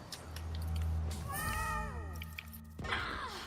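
A pet cat meows loudly nearby, a drawn-out falling cry followed by a shorter call, heard over a low background hum indoors.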